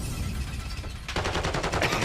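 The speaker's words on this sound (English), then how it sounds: "it's a hail of gunfire" Rapid gunfire in a Call of Duty professional tournament match bursts in after a second of low rumble, a fast rattling run of shots close and loud until the end.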